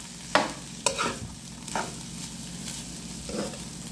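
A spoon stirs pasta locrio in a pot as it cooks, a few distinct scraping clacks over a soft, steady sizzle in a quiet kitchen.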